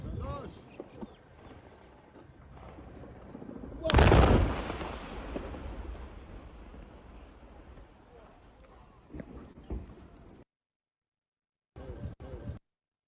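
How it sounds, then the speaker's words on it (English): Explosion of mines placed inside Hamas infrastructure, heard as one loud, sharp blast followed by a long rumbling decay, with a few fainter bangs later and a voice talking throughout. "And this is how it looks for the explosion."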